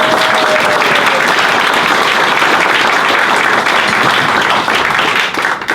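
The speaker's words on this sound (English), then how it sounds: "I'll call for another round of applause." Applause from the audience at a Science on Tap talk about the mountain pine beetle: a full, continuous burst of clapping at steady loudness that thins slightly near the end.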